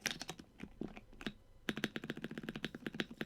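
Typing on a mechanical keyboard fitted with bittersweet tactile switches and O-rings, a fast run of crisp clacking keystrokes with a short pause midway, then a dense steady burst, close and alone.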